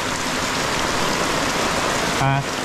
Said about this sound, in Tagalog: Grabe pang lakas ng ulan.